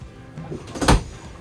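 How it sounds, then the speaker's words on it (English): A storage drawer or bin slides open in the galley of a Pardo 52GT boat, a short wooden rumble ending in a single louder knock, close and alone with no talking. "You got your drawers here, nice storage area, or bins in this case."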